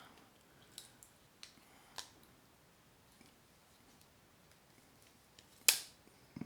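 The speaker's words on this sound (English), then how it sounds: "Those are probably the heaviest duty scissors that I've seen on a pocket knife" Several sharp metallic clicks and snips of heavy-duty pocket knife scissors scattered across a quiet background, ending with one louder snap of the small scissors being opened and closed.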